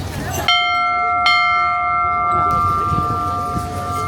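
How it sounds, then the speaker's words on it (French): A ship's bell aboard a tall ship at the Dunkirk tall ships festival rings out with two sharp, close strikes, each leaving a long, clear ringing tone that fades slowly while a bustling crowd murmurs behind it. "Désolé, je vois une cloche."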